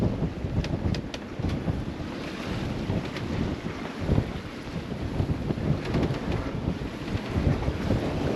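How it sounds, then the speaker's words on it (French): Strong wind buffets a sailboat at sea among the Greek islands as breaking waves surge around the hull: a continuous, loud, rough roar with gusting swells and occasional splashing crests, and no voices. "De temps en temps, il y a des vagues déferlantes qui arrivent"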